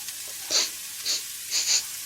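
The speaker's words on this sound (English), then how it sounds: "Now we fry the onions," Onions, ginger, cinnamon and garlic frying in olive oil give three or four short hissing sizzle bursts spaced about half a second apart, moderately loud over a quiet background with no voices.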